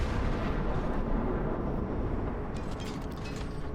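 Ship guns firing in the World of Warships naval game, a Tier 3 cruiser battle: a dense, booming low roar of cannon fire with a few faint crackling impacts near the end.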